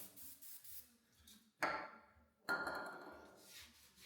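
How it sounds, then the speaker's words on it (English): Two short hissing sprays from an aerosol can, each lasting about a second, separated by quiet handling noises. "you're just going to spray it on"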